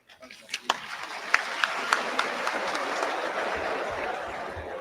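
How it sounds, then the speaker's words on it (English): A crowd in a hall applauds newly qualified medical and dental practitioners after their oath at an induction ceremony in Ghana. The clapping builds from a few sharp claps into dense, sustained applause. "A bigger applause."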